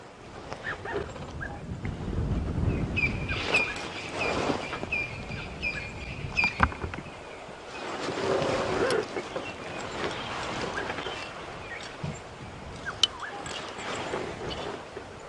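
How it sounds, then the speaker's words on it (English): Wind gusts and swirls around an open safari vehicle in the bush, rising and falling in soft rumbling waves, with faint scattered bird calls and small knocks in the background. "The wind's swirling around quite a bit."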